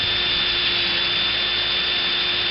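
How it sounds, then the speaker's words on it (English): A drill bit grinding into curved zinc as the drill is tilted down to cut a trough, a steady, continuous whine with a constant tone, loud and close, without talk. "now the next step, after you get it in, is to slowly lay down your drill bit"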